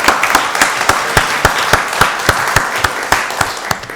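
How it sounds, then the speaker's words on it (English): Applause at a county board of commissioners meeting, with loud, sharp claps standing out in a steady rhythm above a softer bed of crowd clapping, continuing throughout. "Give her another round of applause"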